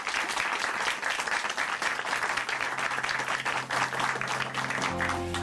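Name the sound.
applause for the testimony speaker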